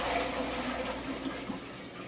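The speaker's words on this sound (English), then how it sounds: "you're going to dump your sugar and your salt water" Steady rush of sugar and salt water pouring into a bowl for pizza dough, a continuous soft splashing that lasts the whole moment without voices.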